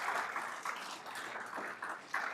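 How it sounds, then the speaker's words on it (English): Applause from an audience at a garden contest awards ceremony, a steady moderate patter of many hands clapping with small surges, fairly distant and without talk. "If you could give them a round of applause,"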